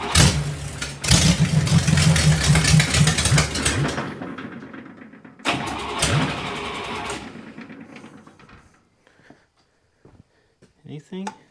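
A vintage dragster with an old Buick Nailhead engine cranking and trying to start: rough, loud sputtering bursts, a pause, another short burst that fades out, then near-silence with a few quiet sounds.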